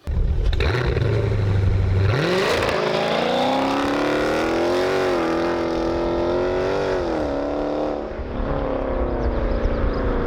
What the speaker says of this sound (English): Now, one thing about the muffler delete though is that it does make the car a little bit more raspy.